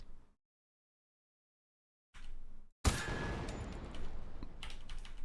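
A burst of video-game gunfire aimed at a barrel in Suit for Hire, starting with a sharp loud shot and then a dense rapid run of blasts that carries to the end, after a short quiet gap.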